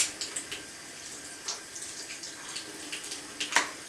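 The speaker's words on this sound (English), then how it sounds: "So I'm just rinsing them, and then I'm just kind of squeezing the excess off." Makeup brushes rinsed under running tap water, a soft steady hiss of flow with light splashes and a few sharper spatters, fairly quiet and with no talking.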